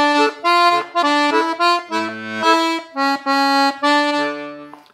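Electronic keyboard plays the melody line of a song: clear sustained notes in a steady phrased rhythm with brief gaps between them, close and fairly loud, heard alone without talk.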